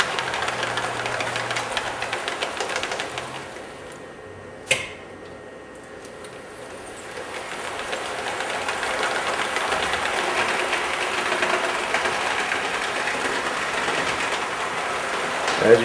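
An O-scale model of a Southern Pacific AC-12 cab-forward steam locomotive, with exact-scale wheels, runs along complex model track, giving a steady, continuous mechanical rumble and rattle that dips briefly before building again.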